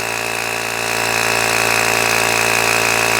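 A Ryobi power tool runs loud and close, spinning off the wheel nuts on a Ford AU car. It gives a steady, continuous mechanical whine with a rapid buzzing pulse and no talk.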